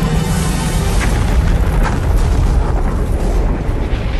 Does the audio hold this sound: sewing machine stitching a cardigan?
no